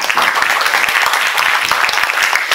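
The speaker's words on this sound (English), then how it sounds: "can everybody join me to give a big clap to" Audience at a technical seminar giving a round of applause, dense, continuous clapping from many hands, close and loud throughout.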